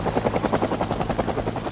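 Helicopter in the Project Zomboid video game, a loud, steady rhythmic rotor thumping that sounds close overhead and continues without pause, with no talk over it.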